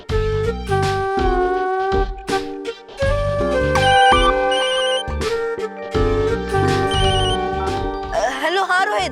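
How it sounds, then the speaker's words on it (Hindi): A phone ringtone rings repeatedly in a Hindi TV drama scene, a melodic electronic tone playing fairly loud and steady under background music, fading near the end. "फोन क्यों नहीं उठा रही है?"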